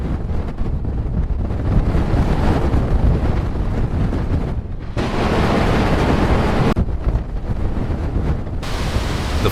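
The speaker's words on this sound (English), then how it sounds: "The floodwaters are surging." Floodwaters surge through city streets in a loud, continuous broadband roar of rushing water, mixed with heavy wind buffeting and several abrupt cuts.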